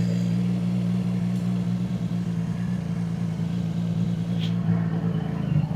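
A 2026 CF-Moto 675 SS motorcycle engine runs at moderate revs during a ride, a steady low droning hum with faint wind rush, held fairly constant without hard revving and with no voices.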